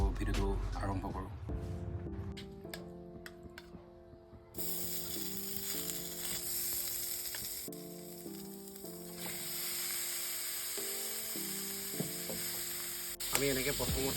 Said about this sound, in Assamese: গাহৰিখিনি একো তেল নিদিয়াকৈ আমি শুকান কেৰাহীত গৰম কেৰাহীত এনেকৈ দি লৈছোঁ।